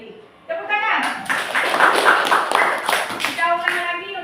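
A classroom group claps hands together in a short burst of rhythmic clapping, close and fairly loud, with voices mixed in.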